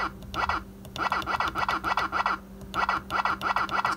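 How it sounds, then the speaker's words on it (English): A pinball sound board's waka effect on a printed circuit board: rapid, warbling electronic chirps repeating in quick bursts over a steady low hum, fairly close and alone. "Here's the waka sound."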